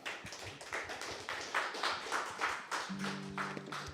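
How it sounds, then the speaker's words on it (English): Applause for Gloria at an open mic night, a smaller audience clapping in an uneven patter of individual hand claps, fairly quiet and close, with a brief low tone entering near the end. "Big round of applause for Gloria."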